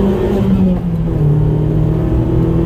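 A light, roughly 1000 kg gas-fuelled car revs hard at a race start, giving a loud, close, sustained engine drone that climbs briefly and then holds at high revs.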